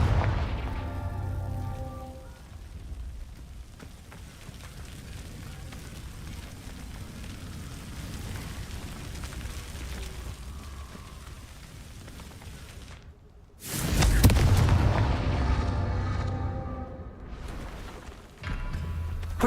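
Confringo spell blasts in the Hogwarts Legacy video game: a muffled rumbling barrage, then after a brief silence a loud close explosion, with a second burst at the very end.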